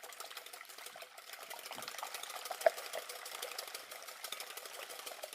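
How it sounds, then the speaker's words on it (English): Eggs whisked by hand in a bowl for a tart filling, a rapid steady clatter of the whisk against the bowl, fairly quiet and close, with no talking. "Always whisk your eggs first,"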